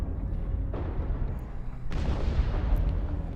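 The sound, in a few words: mech weapons fire in video game MechWarrior Online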